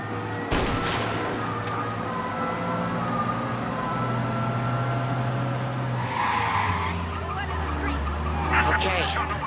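A car driving fast during a police chase in the video game Mafia: Definitive Edition, with engine roar, tyre skids and a siren wailing over continuous noise, a sharp bang early on and voices talking throughout.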